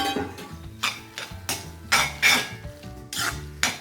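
A spoon stirs fresh coriander leaves into a cooked dish in a pan on a gas stove, scraping in a steady rhythm of about a dozen close, distinct strokes.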